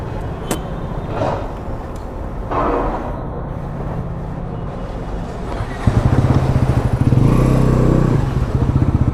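A 2026 Bajaj NS400Z motorcycle with a 349cc engine idles steadily, then the engine revs and pulls away for a ride on a mileage test, its engine note growing louder and rougher, with no talking over it.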